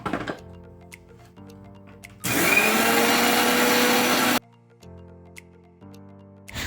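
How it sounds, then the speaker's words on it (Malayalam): Mixer grinder jar grinding dry oats, a loud steady motor whir lasting about two seconds, alone between quieter intervals of faint ticking and background hum. "മിക്സിയുടെ ജാറിലിട്ട് ആദ്യം ഇതൊന്ന് പൊടിച്ചെടുക്കണം"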